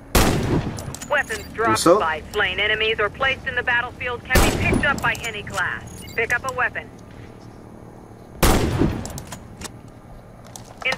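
Sniper rifle shots ring out in the video game Warface: three sharp, loud reports spaced about four seconds apart, with someone talking between them.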